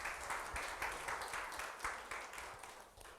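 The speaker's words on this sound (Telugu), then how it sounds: "అందరూ చప్పట్లు కొట్టి ప్రభువుని కనపడదాం" A congregation at a Telugu worship service claps hands together in steady, rhythmic unison, a continuous patter of many palms at moderate loudness with no voices over it.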